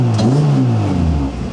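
A Honda CRX's B16A1 engine revs loudly and close, the pitch climbing in a quick blip and then falling back as the revs settle.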